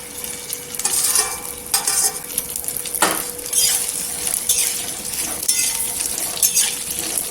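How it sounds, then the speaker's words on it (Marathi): Okra fries in a little oil in a pan on a gas stove, giving a steady soft sizzle with a few stirring scrapes and one sharp clink, all near and fairly quiet, without speech. "त्या तेलामध्ये आपण भेंडी आहे ना फ्राय करायची"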